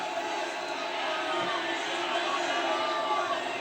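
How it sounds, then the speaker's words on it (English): A crowd at an IFC fight cheers in a steady, roaring wash of voices that stays loud and unbroken, with a commentator talking over it. "The crowd is really, cheering"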